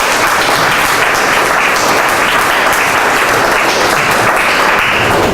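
Sustained applause from an audience at the close of a tech innovation presentation, dense and steady clapping filling the room for several seconds without pause.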